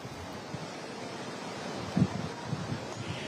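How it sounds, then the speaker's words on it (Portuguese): Strong wind and a rough sea at a beach in Rio de Janeiro on a sunny day, heard as steady blustery wind noise over a broad rumble of surf, fairly faint, with no talking. "É uma linda sexta-feira de sol aqui no Rio de Janeiro, mas com muito vento, como vocês devem estar percebendo, mar agitado"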